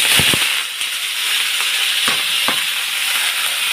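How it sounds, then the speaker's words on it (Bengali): Potatoes frying in hot oil in a wok seasoned with black cumin, giving a steady close sizzle with a few sharp crackles and clinks of stirring. "আলুগুলো দিয়ে দিলাম, আলুগুলো ভেজে নেব।"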